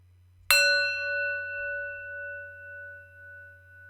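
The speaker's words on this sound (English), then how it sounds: "That's me waking the bell, and then we will get our sound of the bell" A single bell is struck once and rings out clearly, with a bright attack and a long, slowly fading sustained tone that hangs on alone in a quiet room.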